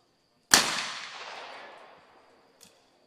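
A single loud shotgun blast in a women's team trap shooting final, sharp onset with a long fading tail over a couple of seconds, followed by a faint distant second shot.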